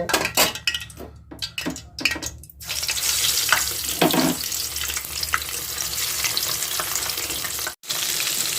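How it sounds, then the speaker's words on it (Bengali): Fish drops into very hot oil in a wok, bursting into loud, close sizzling after a few sharp clatters of utensils, then a steady hiss of frying that carries on with a brief break near the end. "কড়াইয়ে আমি তেল দিয়ে দিয়েছি এবারে তেলটা খুব গরম হয়ে গেছে এবার আমি মাছগুলোকে ভেজে নেব"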